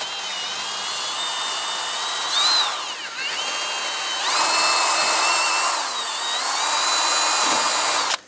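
A power drill with sandpaper spins inside a rusty steering knuckle of a 1999-2004 Jeep Grand Cherokee, a close, loud high whine that holds steady and shifts pitch slightly as it loads and eases before cutting off.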